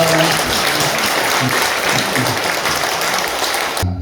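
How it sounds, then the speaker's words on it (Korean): Audience applause fills a church sanctuary during a Korean pastor installation and ordination ceremony, a steady sustained clapping that runs loudly for about four seconds before cutting off abruptly. "박수 부탁합니다."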